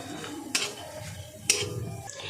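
Cashews fried in ghee are lifted out of the pan with a utensil, giving two sharp metallic clinks over a low background of frying and kitchen noise.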